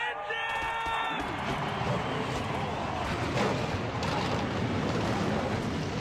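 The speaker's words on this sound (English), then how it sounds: "The engines have fired here at Daytona" A roar of race truck engines firing up together at Daytona in the video game NNSCRA Truck Series, a dense loud rumble that builds and holds steady after a short tonal sound at the start.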